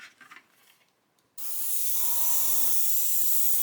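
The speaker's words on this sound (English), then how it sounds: "Just going to blow it back through again." An airbrush blows thinned acrylic paint back through its nozzle to clear a clog. After a second of near quiet, a loud, steady hiss bursts in and keeps going, with a short low rattle partway through.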